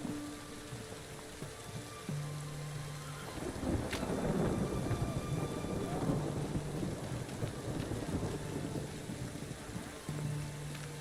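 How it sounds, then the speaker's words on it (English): Steady rain falls in The Witcher video game, a dense hiss with a low rumble swelling through the middle, like distant thunder, and a faint tonal background underneath. "It's raining, of course it's going to be damp."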